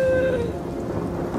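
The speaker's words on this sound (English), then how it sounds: "Oh, why did it have to drizzle?" Rain with a low thunder rumble in an outdoor festival scene from an animated cartoon. The wash of falling rain runs steadily throughout, with a brief high tone at the very start and no talk.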